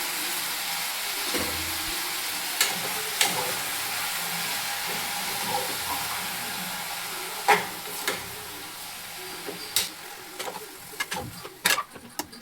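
Sliced brinjal tipped into a pan of browned onions, a soft steady sizzle with scattered clinks and scraping taps from stirring.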